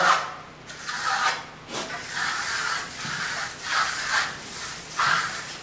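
A steel trowel burnishes American Clay plaster on a wall in a series of rhythmic rubbing, scraping strokes, about five or six sweeps, close by with no talking.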